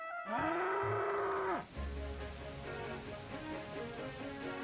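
A farmer's bull lets out one loud, drawn-out moo at close range, followed by steady rain and a low rumble.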